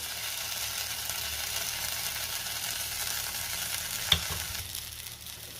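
Masala-stuffed eggplants fry in oil in a pan with a continuous, even sizzle, close and steady, and one brief sharp knock of a utensil near the end, with no talking.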